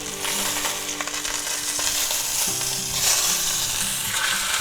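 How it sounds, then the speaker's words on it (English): A thick sous vide chuck roast sears in a hot pan with a loud, continuous sizzle and hiss, steady throughout, with faint tonal hum in the background. "So let's just go ahead and sear this up on that side"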